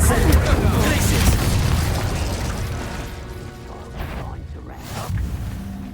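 Spell effects from Hogwarts Legacy, a video game: loud booming blasts and crashing bursts up front that fade, then a softer whooshing pop near the end, with a voice faintly in the mix.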